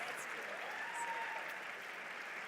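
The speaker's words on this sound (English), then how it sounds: "can we give a big round of applause to this amazing meal" Audience applause at an anniversary gala dinner, honoring the meal and its cooks and waiters; a steady, fairly faint wash of clapping sustained throughout, with a faint tone or voice drifting underneath.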